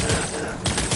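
Rapid bursts of video game gunfire crackle over about a second, loud and close, with a short gap before the firing resumes.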